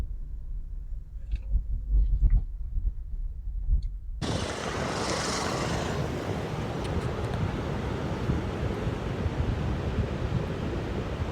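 Sea waves wash in a broad, steady roar with wind blowing across the microphone, following a few seconds of quiet, faint rustling.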